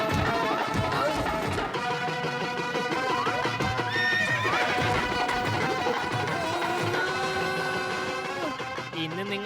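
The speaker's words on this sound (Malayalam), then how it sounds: "കുതിര ഓടിപ്പോയി" A cartoon horse gives a whinny during a wedding celebration scene, heard amid loud, busy background music with little clear galloping.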